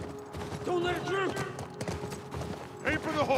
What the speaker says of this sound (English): Aim for the horse!